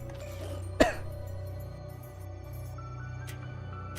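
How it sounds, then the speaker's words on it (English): One short, sharp cough lands near the start over a low steady hum, followed by quiet background noise. "Do I have a chronic cough, by the way?"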